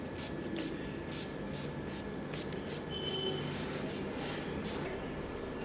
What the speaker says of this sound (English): I'm going to fix that up using this setting spray from NYX